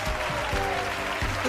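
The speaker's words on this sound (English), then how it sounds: "The crowd goes wild." Crowd applause sound effect, a short burst of clapping and cheering that plays alone at steady loudness for about a second and a half.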